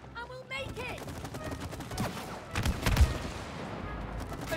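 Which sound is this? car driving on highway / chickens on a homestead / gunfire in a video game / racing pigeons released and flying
gunfire in a video game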